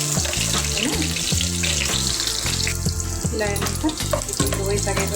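Soybeans fry in hot oil in a pan for a vegetable biryani, giving a steady, loud sizzle that runs throughout under background music.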